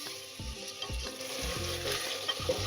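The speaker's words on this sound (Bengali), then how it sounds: "আদা রসুনের সঙ্গে লিভারটা আমরা ভালো করে রান্না করে নিয়েছি।" Mutton liver cooks in a pan with ginger and garlic, giving a soft, steady sizzle and fry. Several stirring scrapes come at regular intervals, heard up close and quiet, with no talking.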